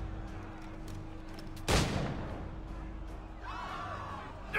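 A single loud cannon blast erupts over a steady ambient bed during a naval battle in Assassin's Creed III, its boom trailing off into rumble while faint cries rise in the background.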